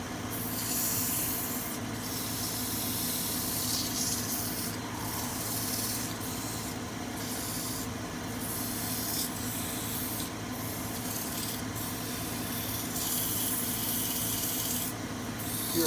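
Sandpaper of 100, 150 and 240 grit is rubbed over a turned wooden snowman, making a continuous close, hissing scrape with faint rhythmic strokes running throughout, fairly quiet and with no talking.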